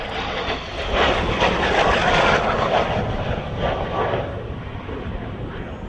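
A propeller aircraft comes in to land on the runway at the Coventry air show, its engine drone swelling to a broad, fairly quiet roar and then easing away, alone without talk.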